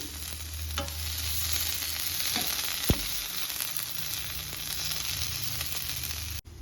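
Chicken pieces frying in a pan over a medium flame for an Afghani biryani, giving a steady, close sizzle. A few scraping stir strokes and one sharp clink cut through, with no one talking.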